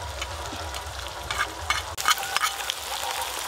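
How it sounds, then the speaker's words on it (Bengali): Ginger paste is added to onions already frying in oil in a pan, giving a close, loud sizzle with stirring scrapes and a sharp burst of crackle midway as the paste hits the hot oil. "এর ওপর দিয়ে আমি আদা বাটা দিয়ে দেব"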